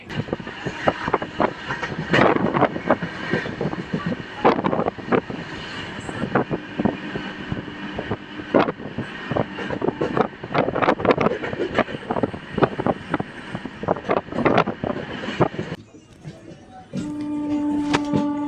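A Humsafar Super Fast Express train runs at speed near Rajampet on the Tirupati–Jammu Tawi route, giving a loud continuous rumble with rattles and wind buffeting, then briefly quieter with a tonal hum near the end.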